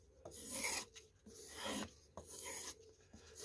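A knife blade stropped on a leather strop, four soft, close rasping strokes in a steady back-and-forth rhythm, each a short swish separated by brief gaps, quiet and alone.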